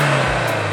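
A tuned car engine with a stroker kit, about 2000 cc and nearly 400 horsepower, gives a brief, loud, steady hum with a low droning tone in under a second of sound.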